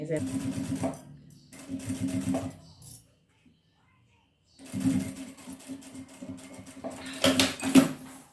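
Sewing machine stitching bias tape onto a small fabric card wallet, running in several bursts separated by a short pause, close and fairly loud, with some handling noise.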